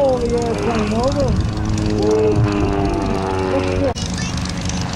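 A Winstead Special propeller airplane performs at an airshow, its engine a steady, loud drone whose pitch sweeps up and down as it rolls and passes, with a brief dip near the end.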